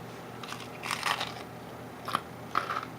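Someone bites and chews a homemade English muffin up close, giving a few soft, crunchy bites spaced apart over quiet background.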